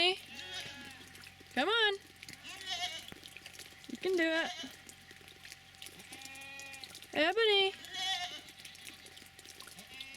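Goats bleat repeatedly on a farm in light rain, several loud, wavering calls spaced through the clip, close by, with a person calling and encouraging them in between.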